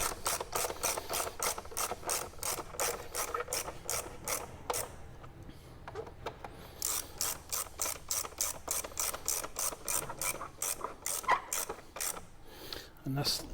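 A 10mm ratchet clicks steadily while tightening the coil pack bolts on a Ford Fiesta, rapid close pawl ticks in long runs with a brief pause midway, quiet and without talk.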